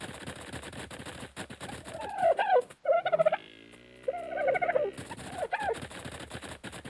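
Loud gobbling bird calls from chickens in the video game Ark, two bursts of warbling clucks over a steady mechanical in-game background hum.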